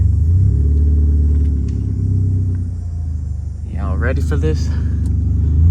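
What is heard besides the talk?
rigged Ford Fusion engine rumbling, front wheel drive car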